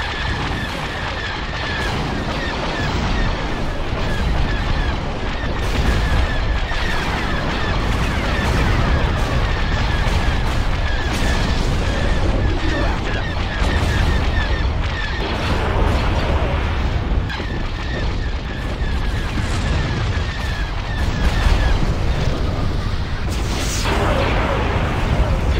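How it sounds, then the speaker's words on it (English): Ion cannon fire in a Star Wars video game imperial campaign, heavy booming blasts laid over a dense, steady battle din, with one sharper burst near the end. "Ion cannon firing."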